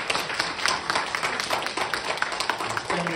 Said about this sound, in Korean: 우리 영예 집사님 오셨는데 우리 환영의 박수